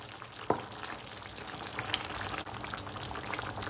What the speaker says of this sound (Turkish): Baharatları iyice karıştırdık.